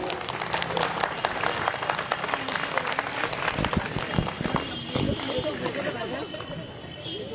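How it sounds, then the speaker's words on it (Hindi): An audience at a political rally breaks into loud, steady clapping, mixed with crowd chatter and shouts that continue under the applause. "सैफ पठान के लिए एक जोरदार तालियां।"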